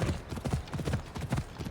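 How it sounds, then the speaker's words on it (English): Horse hooves clip-clop in a quick, steady rhythm in the video game Assassin's Creed Odyssey, close and fairly quiet, with no talk over them. "I need to take this horse to either Adonis or to the stable boy."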